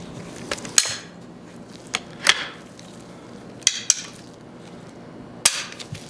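A Stevens 94 hinge-break single-barrel shotgun being worked by hand, giving a few sharp metallic clicks and clacks spaced irregularly, close and crisp against a quiet room.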